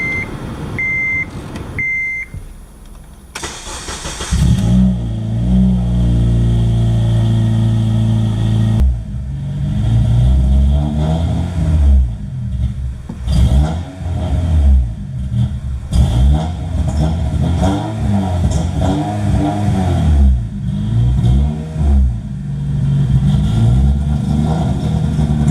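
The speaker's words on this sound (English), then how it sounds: "as I was pushing the gas, the car started to stumble" A car engine under the gas revs repeatedly and stumbles, loud and close, with uneven surging pulses after a few short beeps at the start.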